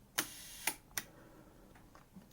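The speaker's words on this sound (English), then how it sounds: "Lovely crisp shutter, that's on 1/2 a second." Konica S rangefinder camera shutter fired at a half-second speed: three crisp mechanical clicks close to the mic, the first two half a second apart, then quieter ticks trailing off in a quiet room.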